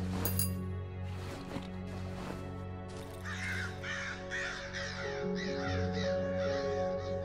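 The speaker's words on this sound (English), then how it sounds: "Crows everywhere." Crows cawing repeatedly in the Darkwood video game, a series of harsh rhythmic caws over a low droning ambient hum, fairly close and loud, with no speech.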